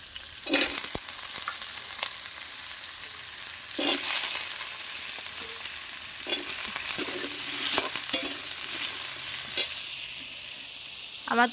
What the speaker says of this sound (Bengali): আজকে হবে সোয়াবিন কষা